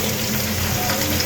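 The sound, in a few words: onion and green chilies frying in a wok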